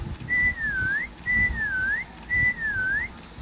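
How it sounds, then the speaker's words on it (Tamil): Three identical swooping whistles from a Roblox player character in Meccha Chameleon repeat at an even pace, each bright tone dipping down and curling back up, loud and clear above quiet ambient game noise. "okay I am also going to whistle guys"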